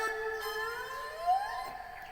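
A Yamaha PSR-S750 keyboard imitating a Thai bowed fiddle plays a gliding, wavering melody line, fairly soft and alone.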